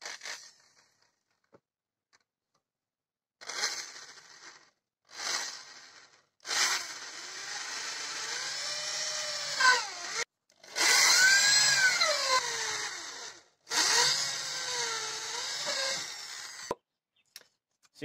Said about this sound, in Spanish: Obviamente aún falta perforar a través de la madera, que es lo que voy a hacer ahora